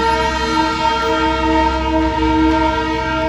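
A toy train comes down a hill track with a loud, sustained horn blast that holds steady for the whole stretch over a low rolling rumble.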